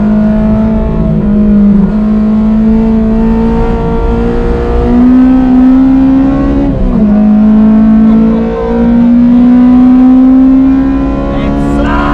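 A Honda DC5 Integra Type-R with a K20 engine and individual throttle bodies accelerates hard, its engine note rising close and loud through the gears, with a short dip at each shift.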